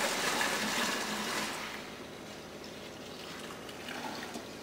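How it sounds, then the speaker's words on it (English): Cooled beer wort splashing as it is poured into a bucket, a gushing liquid rush that is strongest at first, then tapers into quieter trickling and sloshing. "this is Doug pouring the cooled wort into the bucket"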